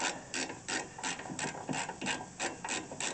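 A ratchet works loose a tightly torqued front brake bolt on a 2015 Kia Sorento, producing a run of about ten quick, rhythmic ratcheting bursts of clicking, close and fairly quiet.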